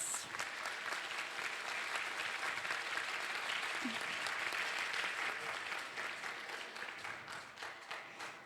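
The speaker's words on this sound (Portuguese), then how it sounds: "Eu gostaria de uma salva de palmas para elas." Sustained audience applause at the opening of a museum event, a dense steady wash of many hands clapping with no break, gradually thinning toward the end.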